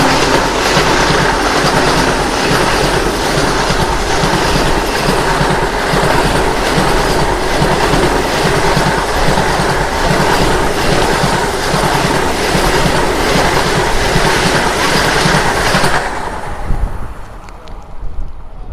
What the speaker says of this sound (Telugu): కానీ చూసుకుంటే మనకు వచ్చేసి నాగ్పూర్ సికింద్రాబాద్ వందే భారత్ అయితే వస్తుంది